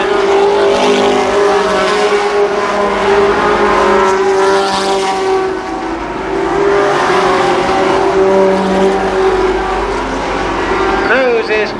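Race cars circle Columbus Motor Speedway at the 1993 Fall Speedfest, a loud sustained engine roar with a droning pitch that swells and fades as cars pass, and a commentator talks over it.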